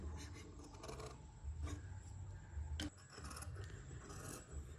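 Scissors snip and slide through cloth being cut for a wrap-style frock, giving close, soft rasping cuts in a few uneven strokes with a brief sharper snip near the middle.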